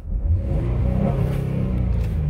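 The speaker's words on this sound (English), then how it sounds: "Motor revs up well." A 2015 Ford F-150 XL pickup's engine revs up close by, a low throaty rumble rising in pitch and holding steady.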